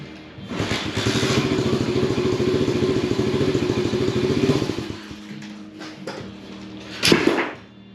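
A small pit bike engine with no exhaust fitted revs loudly with a harsh, rapid popping rattle for several seconds, then cuts out, followed by clanks and a brief thump.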